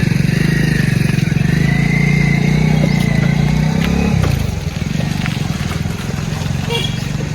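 A motorcycle engine runs steadily with a low throbbing rumble, loud and close, its pitch dropping partway through as the revs ease off.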